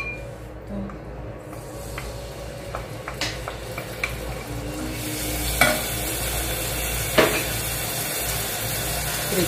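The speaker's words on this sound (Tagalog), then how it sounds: "Prituhon ang parsley ang mahuman." Parsley frying in a pan gives a steady hiss and sizzle, growing louder midway, with occasional scrapes and clinks of a utensil against the pan.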